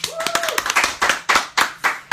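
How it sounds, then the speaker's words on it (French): A small gathering claps in a loose, uneven rhythm, a handful of distinct close claps spaced out, with a brief tonal sound and a bit of voice early on. "Accueil, applaudissements s'il vous plaît."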